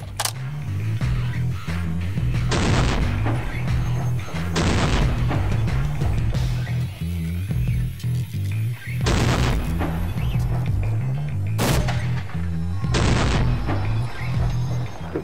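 Several sharp, loud .50 BMG armor-piercing incendiary rounds striking steel plate, spaced a few seconds apart over a steady low background rumble.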